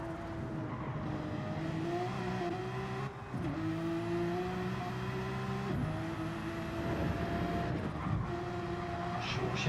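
Race car engine in a video game at the Nürburgring Nordschleife, a GR3 car held at steady revs through a turn with throttle pressed, then a gear change and climbing pitch; continuous and loud, with no talk.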